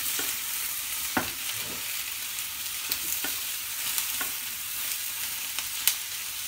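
Paneer cubes with capsicum hard-frying in a kadai, a steady, bright sizzle with scattered sharp scrapes and taps from stirring, close and continuous without voices.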